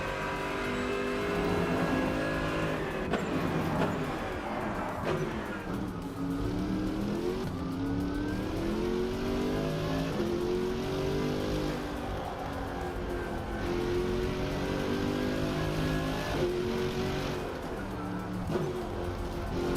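Exterior engine note of a 1990s DTM touring race car in the Rennsport racing game, a loud continuous roar rising and falling through revs and gear changes, heard alone without talk.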